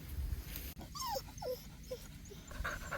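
A dog whimpers in a few short, rising whines, fairly close, over a steady outdoor background hum beside a wild fishing pond.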